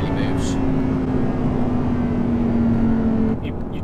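An Audi R8 V10 supercar accelerates through its gears on a road, its engine a loud, sustained drone with a rising then falling tone that cuts off near the end, heard from inside the cabin.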